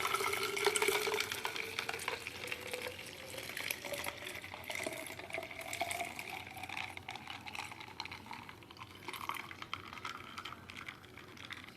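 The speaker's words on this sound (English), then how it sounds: "First pour it in here." Liquid pours into a container at close range, a continuous trickling fill whose pitch rises steadily as the vessel fills, fairly quiet with no talk.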